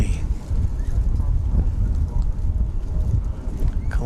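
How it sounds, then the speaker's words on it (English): Strong wind at DFW Airport buffets the microphone in a steady, loud, low roar with gusty swells throughout. "Yowie, it's windy."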